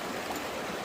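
Creek water is poured and splashed over a gold pan during gold panning on a Pennsylvania creek, a steady close rushing wash with no voices.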